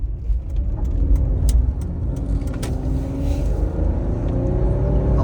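Land Rover Freelander with a KV6 engine running close by, a steady low rumble with slight rises in revs and some light clicks and taps on top.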